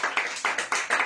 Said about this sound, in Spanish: Regálale unas palmas a mi amado Señor Jesucristo.